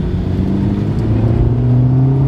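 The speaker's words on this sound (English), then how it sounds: "our car does not have enough power in the engine" A car engine labors up a very steep, zigzagging mountain road in Valle de Antón, Panama, giving a steady loud droning whine that climbs slightly in pitch with no talking.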